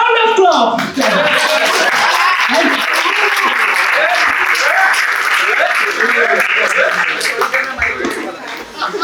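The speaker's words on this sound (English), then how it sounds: "A huge round of applause" A packed audience at an IIC ideathon event breaks into dense, loud applause that fills the whole stretch, steady clapping with chuckles and laughter mixed in and some voices audible through it.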